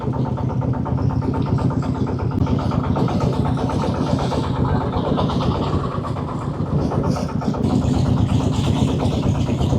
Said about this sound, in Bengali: ছোট একটি ডিঙি নৌকাতে করে আমরা রওনা দিচ্ছি চরের উদ্দেশ্যে